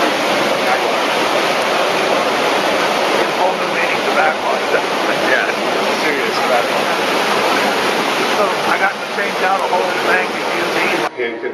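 Water rushes loudly and continuously through a filter during backwash at a water treatment plant, a dense steady roar that stays close and unbroken until it drops away at the very end.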